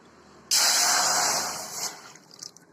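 Water poured into a kadai pan for cooking, a sudden loud hissing splash that starts abruptly, tapers off over about a second, then ends in a few trickles and drips.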